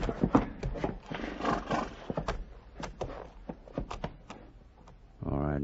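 Horse hooves clip-clopping in an old-time western radio drama, a run of sharp knocks under busy overlapping voices, followed by a sustained louder tone at the end.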